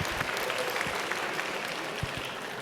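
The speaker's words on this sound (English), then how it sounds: "big round of applause." Applause from an audience at a university AI hackathon awards ceremony, a steady dense clapping wash held at even loudness through the whole stretch, with no voices over it.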